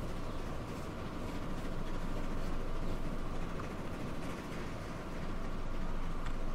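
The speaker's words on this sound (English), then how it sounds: "I do like this train going through the trees like that" A train in Transport Fever 2 runs through trees, heard as a steady, continuous rumble and rolling rail noise with no pauses, fairly loud throughout.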